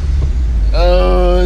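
A BMW M6 engine cranks and fires after its push-button start, catching into a loud, steady idle with a strong harmonic drone that continues close and alone.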